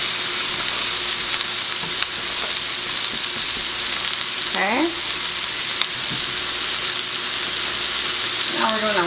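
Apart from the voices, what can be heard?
stirring buttered noodles and cabbage frying in pan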